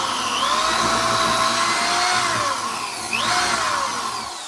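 A powerful power drill bores into a wood knot burl, close and loud, with a steady high whine that shifts pitch as the bit bites and eases off. There is a brief surge near the end before the sound tapers.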